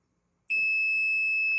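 Multimeter continuity beep from testing a clothes dryer's high-limit thermostat: a single steady, loud electronic tone that starts abruptly and holds without a break.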